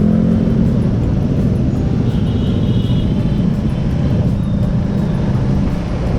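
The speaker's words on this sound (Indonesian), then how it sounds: "Pagi-pagi macet." Morning traffic on a jammed Jakarta road gives a loud, steady roar of engines and tyres, a continuous low rumble close by with no break.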